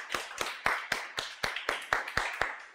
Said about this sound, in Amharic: ለራሳችሁ ሞቅ ያለ ጭብጨባ